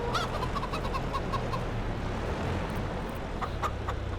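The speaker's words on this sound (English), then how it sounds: "Oh, we're just making a mess of the chickens" A flock of chickens clucking on a farm, a steady busy chorus of close, overlapping clucks and squawks over a low engine rumble, with no talk.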